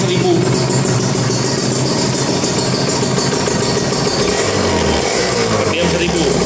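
A Kawasaki Ninja RR motorcycle engine idles steadily at 1000 RPM, a continuous close rumble with a voice briefly audible over it.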